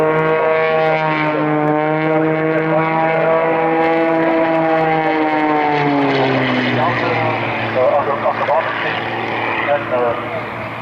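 An aerobatic propeller plane flying unlimited aerobatics at an evening airshow drones loudly overhead, its engine pitch sliding down and rising again as it tumbles and rolls, with an announcer talking over it.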